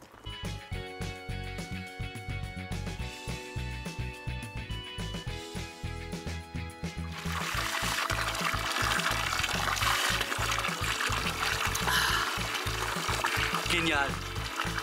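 Water runs from a fountain by a mountain chapel in Tirol, first as a rhythmic trickle and pour under music, then as a louder, steady gush close by.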